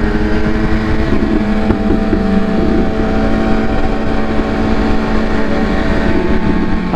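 A loud, continuous motorcycle engine roar while riding, running hot at 97 degrees, with steady rumble and wind buffeting throughout.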